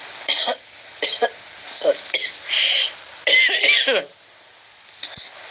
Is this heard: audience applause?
no